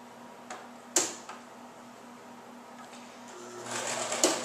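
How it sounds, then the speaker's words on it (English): A sewing machine running a simple straight stitch through upcycled sweater knit, heard as a low steady motor hum with a few sharp clicks and a louder whirring burst near the end, with no talking. "get your sewing machine ready. We're going to do the same thing we did last time, just a simple straight stitch"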